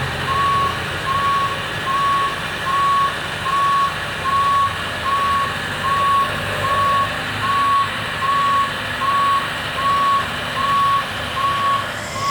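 A boom lift backs up with loud, evenly spaced reversing beeps repeating steadily over a continuous diesel engine drone, close by and without talk.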